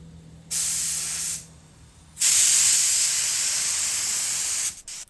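An LVLP spray gun sprays paint onto the bulkhead of a Triumph Spitfire under restoration, two loud sustained hissing bursts, the first about a second long and the second nearly two and a half seconds, close by and separated by a brief pause.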